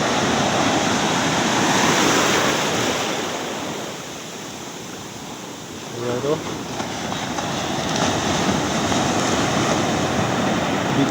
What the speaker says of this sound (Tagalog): biglang lumalaki yung mga alon